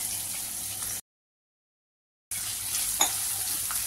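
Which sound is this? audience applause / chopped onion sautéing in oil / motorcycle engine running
chopped onion sautéing in oil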